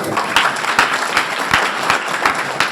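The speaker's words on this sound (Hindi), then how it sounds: "एक बार जोरदार तालियां।" A gathered audience breaks into loud applause at a talk about health and business, a strong, fairly rhythmic burst of many hands with regular accented claps recurring through the brief stretch.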